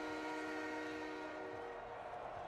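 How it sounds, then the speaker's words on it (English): A train sounds in a Madden 23 football video game, heard as a steady, droning horn-like tone held over a low rumble, moderately loud and unbroken, with no voices. "Why am I hearing a train?"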